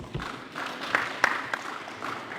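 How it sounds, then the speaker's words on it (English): Scattered audience applause at a community meeting on industrial park designs, a modest, thin patter of clapping with a few sharper claps, fairly distant and not very loud. "Let's give him again a round of applause"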